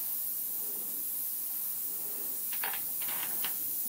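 An airbrush sprays paint along the panel lines of a scale model in a continuous, close, soft hiss, with overspray building up the weathering. A few brief, brighter bursts of spray come near the end.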